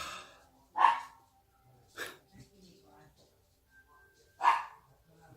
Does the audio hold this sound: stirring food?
no